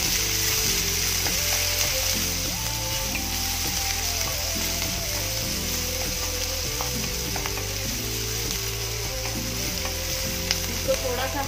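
Chopped onion and green chilli frying in a pan for a tomato paratha masala, a steady close sizzle under a droning background tone with light scraping stirs, no voices.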